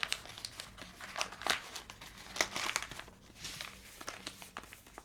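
Stiff paper being folded and pressed shut on a handmade Valentine's Day envelope, giving close, repeated crinkles and crisp rustles in irregular bursts, with no talking.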